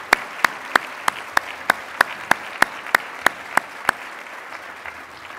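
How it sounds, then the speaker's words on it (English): Applause for award winners at an MLK diversity awards ceremony: a thin run of about fourteen sharp claps, evenly and steadily spaced, sounding like just a few hands clapping in a quiet room, with no voices. "let's give a round of applause to all of our award winners in the spirit of Martin Luther King"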